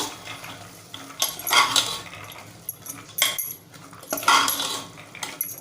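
A spoon scrapes and clinks in a pan as soaked white peas and potato are stirred into fried masala, irregular metallic scraping bursts close up with no voices.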